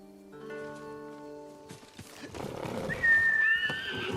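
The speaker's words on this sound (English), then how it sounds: "Horse!" A horse in the video game Ghost of Tsushima neighs loudly in a rising, shaky whinny, close by, following a calm musical passage with some game ambience and no speech.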